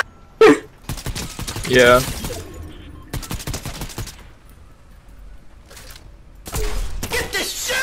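Video game gunfire comes in loud bursts, rapid crackling volleys separated by quieter gaps, with excited talk in between.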